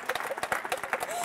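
Sparse, light clapping from a conference audience at a Rust programming community talk, a quick scatter of soft, irregular claps in a large room, fairly faint and brief.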